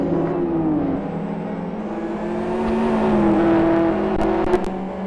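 Super GT race cars run around the circuit, engines droning and rising in pitch as they accelerate, with a few sharp clicks near the end.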